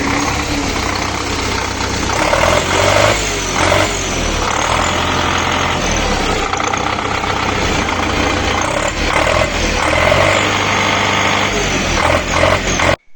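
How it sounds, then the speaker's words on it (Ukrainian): A YuMZ tractor works with its diesel engine running loud and close, a continuous rough rumble that surges in load a few times before cutting off abruptly at the end. "Так що така робота ЮМЗ"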